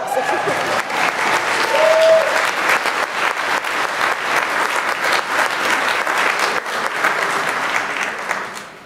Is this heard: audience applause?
yes